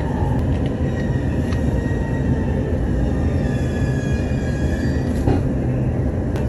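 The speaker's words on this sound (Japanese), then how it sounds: "結城駅を発車します。" A Mito Line train pulls out of Yuki station: a steady rumble of rolling wheels, with a few thin squeals and clanks on board.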